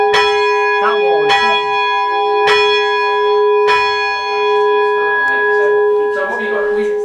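Church bells of Thornhill St Michael's ring from inside the ringing chamber, the back six of the peal struck in a steady sequence of loud, close strikes with long shimmering overtones, while people talk quietly nearby.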